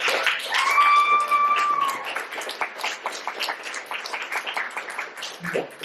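An improv comedy audience breaks into clapping for a performer playing a doctor, a steady patter of many hands with a whistle near the start, tapering slightly toward the end.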